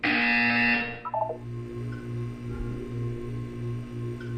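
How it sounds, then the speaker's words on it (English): A loud, harsh electronic buzzer in Portal 2 blares for under a second, then cuts off into a quieter pulsing hum. "You will hear a buzzer."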